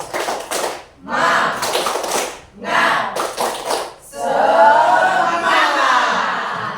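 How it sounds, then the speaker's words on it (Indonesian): A group claps a rhythmic spirit clap in short patterned bursts, loud and close, with voices chanting between the rounds of claps. "Tepuk semangat."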